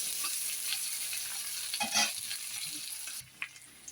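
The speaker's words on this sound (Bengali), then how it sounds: "পেঁয়াজটা এখন একটু ভালো করে লাল লাল করে ভেজে নেব।" Onion frying in oil with nigella seeds for a fish recipe, a steady close sizzle with occasional stirring scrapes, fairly quiet, with a brief knock near the end.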